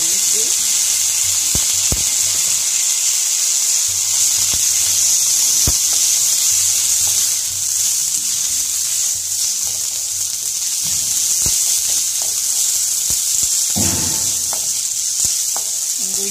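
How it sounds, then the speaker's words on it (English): Ginger and garlic paste sizzles loudly in hot oil with fried onions, a steady bright hiss broken by occasional clicks and spatters as the paste cooks for shahi paneer. "Now add 1 tablespoon of ginger paste and 1 tablespoon of garlic paste."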